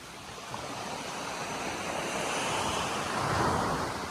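Steady roar of surf washing onto a beach at Sesoko Island, Okinawa, continuous and fairly loud, with some wind rumble buffeting the microphone throughout.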